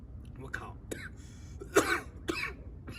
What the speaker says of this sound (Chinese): 不，没事，一点小咳嗽而已。